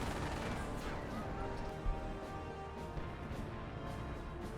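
In the Company of Heroes battle game, artillery and gunfire rattle throughout as dense bursts of shots and crashing impacts under a steady battlefield din, with one heavier boom partway through.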